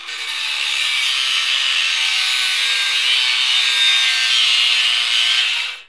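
An angle grinder cuts steel in one steady, loud, high-pitched whine that runs unbroken for several seconds and then stops abruptly, with no talk.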